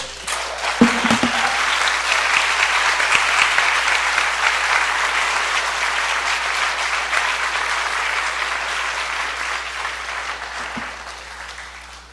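A church congregation applauds during a Spanish-language sermon, a dense, sustained clapping that swells quickly and holds for about twelve seconds before thinning slightly toward the end.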